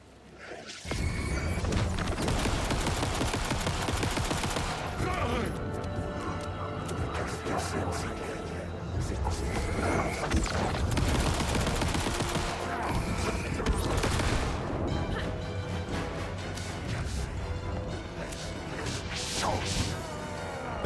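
Rapid gunshots and crashing impacts in the survival horror game Alan Wake 2, a dense run of sharp, loud bursts over tense music and mechanical clatter across the whole stretch.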